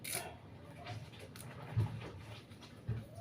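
Faint dog sounds, soft panting and small whimpers, with a few low thumps and shuffling nearby in a quiet space.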